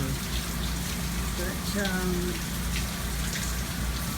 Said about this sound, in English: it's still, I mean, constant rain